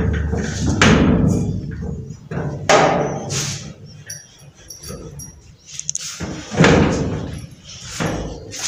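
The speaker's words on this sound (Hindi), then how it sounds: "तो अब हम करते हैं बंद दरवाज़ा।" A door being pushed shut inside a Pakistani home gives several solid thuds and knocks, close and fairly loud, with faint voices now and then.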